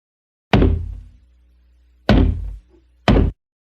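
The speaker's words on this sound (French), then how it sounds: "J'ai fermé mon poing et cogné sur la porte avec." Three heavy fist blows on a door, two spaced apart and then a third soon after, each a loud, close thud with a short boomy decay, and no other sound between them.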